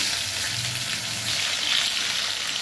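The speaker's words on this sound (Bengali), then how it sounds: "ওই তেলেতে আমি আলুটা আর ঝিঙেটা ভেজে নেব" Potato and spring gourd fry in hot oil in a pan just used for fish, with a dense, steady, close sizzle and a faint bubbling crackle throughout.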